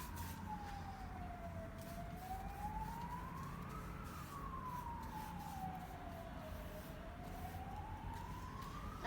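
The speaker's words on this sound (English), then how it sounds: "I apologize for that sound. It's like a, I don't know, police car or something." Police car siren wailing outside, a slow rising and falling wail that sweeps steadily up and down, heard distant and faint through a window over a constant background hum.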